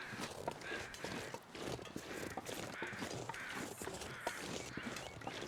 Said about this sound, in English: Even the crows.